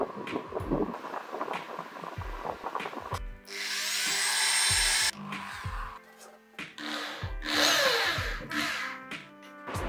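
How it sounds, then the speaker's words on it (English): A power drill drives screws to attach legs to the top cover of a 3D printer enclosure, giving short whirring bursts separated by clicks and knocks of parts being handled. "Now I install the legs to the top of the cover by inserting the screws."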